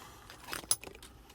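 A bunch of keys for a 2014 Nissan Navara 3.0 dCi V6 Outlaw jingles briefly at close range: a quick burst of metallic clinks that peaks in a sharp chime, then fades out.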